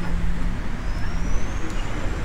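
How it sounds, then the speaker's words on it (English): Steady road traffic on Oak Bay Avenue next to a pub, a constant rumble of passing cars and heavier vehicles, loud and close with no voices. "A lot of traffic, as you can imagine, on Oak Bay Avenue"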